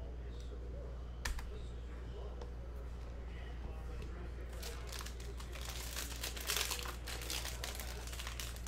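A cello pack of 2019-20 Panini Mosaic basketball cards is torn open, with crinkly plastic rustling and ripping in close bursts that grow busier toward the end. Faint voices may sit in the background.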